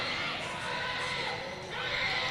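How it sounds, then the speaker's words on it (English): A fan club crowd at a team penning event cheers and shouts from the stands, a loud, continuous wash of many voices that swells and dips slightly, with faint horse sounds mixed in. "You can hear the fan club behind us, and they're cheering them on."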